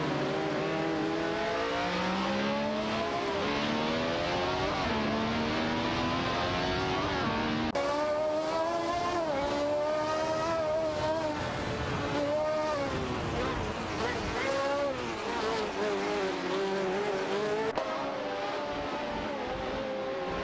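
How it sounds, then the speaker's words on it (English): Race cars in a racing video game, including a Ferrari 312T and a Hill GH1, roar continuously with layered engines rising and falling in pitch as they rev and shift, loud and dense throughout. "there's a tight battle for the 14th position between Sabine 27 and Okyoki 3 in the Ferrari 312T and Wayne Train 94 and Amy in the Hill GH1"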